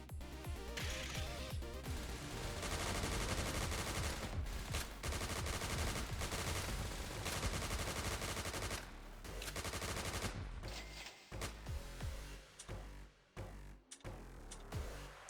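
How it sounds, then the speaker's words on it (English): Rapid bursts of advanced machine pistol gunfire in a video game, loud and dense, running almost continuously before breaking into shorter choppy volleys near the end. "I never used the advanced machine pistol. I'm kind of curious how that plays out."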